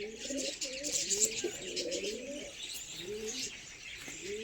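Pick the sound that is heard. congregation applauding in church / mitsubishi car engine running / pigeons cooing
pigeons cooing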